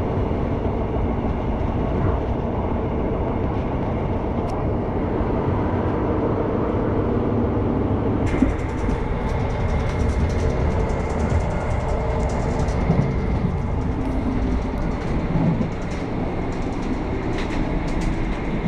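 Passenger train running from Fort William across Rannoch Moor, heard from on board as a steady loud rumble with rhythmic rail clatter throughout and no talk.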